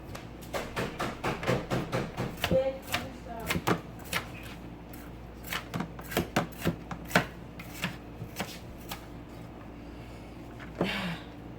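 Vegetables are chopped on a cutting board for muffin tin quiche, a series of sharp, irregular knife taps in quick bursts with short pauses, close and fairly crisp, ending with a brief rustle.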